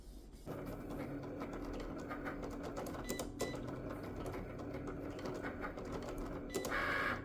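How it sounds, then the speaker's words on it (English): A small printer in a home studio running a print job, a steady mechanical whir with light clicking and feed noises, close and moderately quiet, a brighter whine rising near the end. "So it's printing now."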